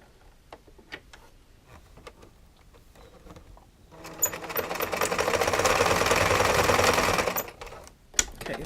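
A sewing machine backstitches while a fascinator is being made: a few scattered clicks and taps, then a loud, fast, rapid-fire stitching run lasting about three seconds before stopping, followed by a final click.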